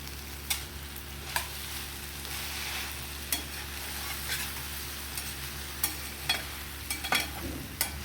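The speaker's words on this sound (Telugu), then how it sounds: "దీన్ని అయితే కలుపుకుంటూ మాడిపోకుండా చూసుకోవాలండి." Broad beans and fresh coconut curry fry in a pan over medium flame, a soft steady sizzle broken by periodic scraping clinks of a spoon stirring every second or so, close and without speech.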